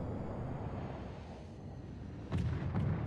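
Main guns of the Alabama battleship fire shells in World of Warships, two heavy booming bursts close together near the end, rising over a steady roar of wind and sea ambience.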